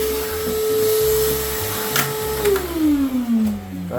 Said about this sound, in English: Get the vacuum quick.